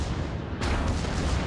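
Heavy battleship guns fire in a naval video game as a single deep boom that rises abruptly out of a low rumbling background and then rolls on.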